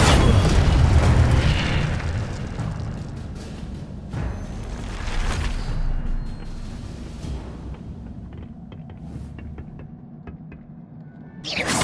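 Incendio fire spell cast in the game Hogwarts Legacy: a loud whooshing fiery burst with booming rumble, followed by several smaller crackling pops as it fades, no speech.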